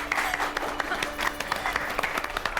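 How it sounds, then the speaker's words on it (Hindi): A group of people claps continuously to celebrate a daughter's district-topping exam result, close and lively, with voices talking over the applause. "किस खुशी में इतनी तालियां बजाई जा रही हैं भाई?"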